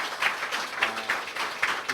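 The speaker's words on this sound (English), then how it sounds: "a resounding round of applause." Applause from the crowd at a celebration of the life and work of a former president, a steady wash of clapping with a few louder bursts, moderately loud throughout.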